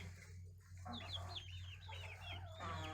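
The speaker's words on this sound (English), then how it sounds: "See, they're just little chickens." Small homestead chickens cluck and chirp in short, close bursts over a steady low hum, with several quick calls overlapping and no talking.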